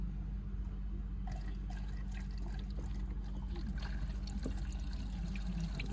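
Warm distilled water flushing steadily out of the cooling system of a Chevy 3.8L engine in a Pontiac Grand Prix, a continuous close trickling and pouring flow with no talk.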